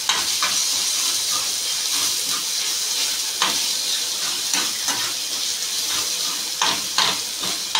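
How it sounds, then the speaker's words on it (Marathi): Bread rolls fry in a pan with a steady, close sizzle and hiss throughout, broken by a few brief sharper crackles and spatters. "आता आपण जरा नीट फ्राय करून घेऊ."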